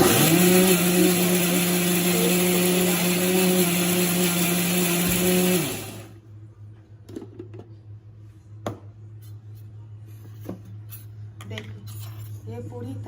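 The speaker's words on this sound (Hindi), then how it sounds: "अब मुझे मिक्सी में इसका पेस्ट तैयार कर लेनी है।" A kitchen mixer grinder whirs loudly and steadily while blending peanut chutney paste with a little water, then cuts off, leaving quiet clinks of utensils and a low background hum.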